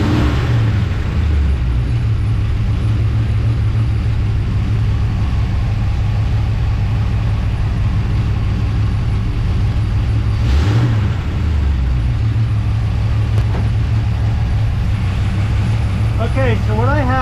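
A carbureted car engine idles steadily during an ignition timing check, a low continuous rumble close by, with a brief rev near the middle and a person speaking over it.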